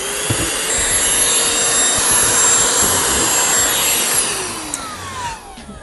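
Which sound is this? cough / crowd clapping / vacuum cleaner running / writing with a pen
vacuum cleaner running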